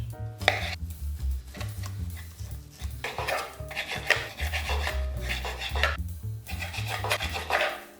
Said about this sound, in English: let's cut our sausage.